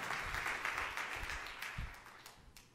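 A church congregation claps and applauds for a couple of seconds, with a dense patter of hands that is fairly faint and fades toward the end, with no talking.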